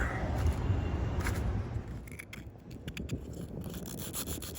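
Close, steady scraping and rasping of a razor blade dragged across metal-flake paint on a 1970s jet boat, continuous strokes with brief gritty pauses, no talking.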